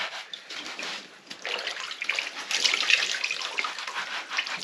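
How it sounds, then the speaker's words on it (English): A sponge scrubs a Ford Granada 8.7 rear axle part from a 1940 Mercury project while water splashes and runs over it, heard as soft uneven swishing and trickling that grows louder after the first second, with no voices. "I'm just going to scrub this off of here and rinse it off."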